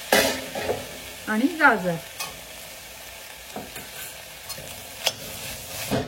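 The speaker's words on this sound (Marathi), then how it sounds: "आता कांदा आणि शेंगदाणे चांगले तेलामध्ये परतले। त्याच्यामध्ये आता आपल्या सगळ्या भाज्या घालते।" Green peas, beans, bell pepper and carrot are stirred into onions and peanuts frying in oil for vermicelli upma, with a steady sizzle, repeated close spoon scrapes and a brief spoken phrase.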